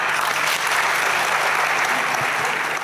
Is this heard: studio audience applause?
yes